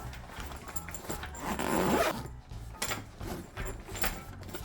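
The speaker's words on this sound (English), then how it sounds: "Now let's zip this up." A toiletry bag from Bestour being zipped shut, a steady rasping zipper pull lasting a couple of seconds, close and clear with faint handling noise around it.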